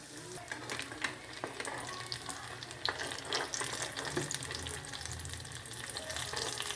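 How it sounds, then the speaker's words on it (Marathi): Corn cutlets fry in oil with a busy crackling sizzle and scattered pops, fairly quiet and close, without any talking. "अशा प्रकारे सगळे तळून घ्या."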